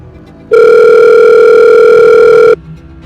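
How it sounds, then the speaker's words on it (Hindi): A steady, loud telephone dial tone sounds for about two seconds, starting and stopping abruptly, with quiet background before and after. "अपने बेडरूम में पहुंचकर वो अपनी मम्मी को कॉल लगाती है"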